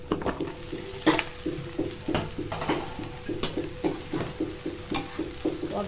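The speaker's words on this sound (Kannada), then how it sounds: "ಇವಾಗ ಈ ಸೊಪ್ಪನ್ನು ನಾನು ಅದರಲ್ಲಿ ಹಾಕ್ಕೊತಾ ಇದ್ದೀನಿ" Amaranth greens are stirred in a pan of sizzling tempering oil with a steady rhythm of scraping and clattering strokes over a faint frying hiss.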